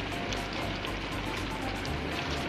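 Cabbage goes into a hot pan of chopsuey with carrot and chayote; a loud, continuous dense sizzle and crackle fills the clip, like steady rain on a surface.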